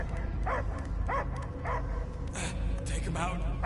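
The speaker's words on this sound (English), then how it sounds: "I hear only barking." Dog barking and whimpering in the Guardians of the Galaxy video game, several short yelps spaced across the moment over a dense, rumbling game soundtrack, with voices mixed in.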